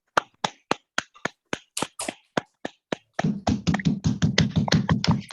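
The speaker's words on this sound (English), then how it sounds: "clap so that Busi can hear you, please do." Applause from an online audience at a Red Wheelbarrow event: first sparse, separate claps from one person, then several people clapping together in a denser, uneven patter.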